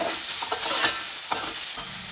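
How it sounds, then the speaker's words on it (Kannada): Onions sauté in a pan with crushed garlic, cloves and cinnamon for egg gravy, giving a steady close sizzle broken by a few scraping stirs of a spoon, with no talking. "1 ಕಪ್ಪು ಈರುಳ್ಳಿ ನೀಟಾಗಿ ಬಾಡಿಸ್ಕೊಳ್ಳಿ"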